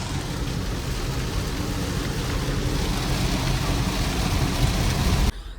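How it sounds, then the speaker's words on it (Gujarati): Heavy rain pours down in a dense, continuous roar. The wash is loud and unbroken, with a low rumble underneath, and it cuts off abruptly right at the end. "વરસાદ ફર્સ્ટ ક્લાસ આવી રહ્યો છે."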